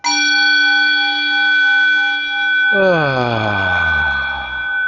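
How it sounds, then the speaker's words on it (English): A gong rings with a sustained, shimmering metallic tone, then a second strike blooms into a louder, swelling wash of overtones that hangs and slowly fades, close and without speech. "The gong is just to remind us that there is a"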